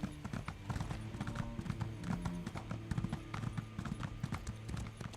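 Rhythmic clip-clop of horse hooves at a steady gallop in the video game The Elder Scrolls Online, continuous and fairly close, with a low musical drone underneath.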